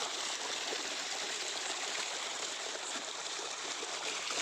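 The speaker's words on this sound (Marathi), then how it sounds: "चला आता टाकीत पाणी झालंय चालू." Water runs steadily into a village water tank, a continuous broad rushing and splashing flow with no pauses, close and fairly loud throughout.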